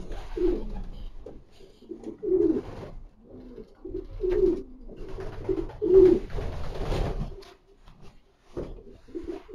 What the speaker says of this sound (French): Un très beau pigeon aussi.